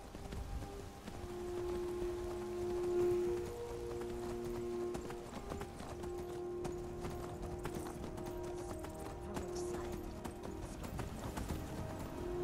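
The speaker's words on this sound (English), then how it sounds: "Get on your horse, Sophie." Horse hooves clip-clopping in Skyrim Special Edition on Xbox One, a steady rhythmic gait heard up close alongside a pattering rain-like ambience and sustained background music tones, with no talking.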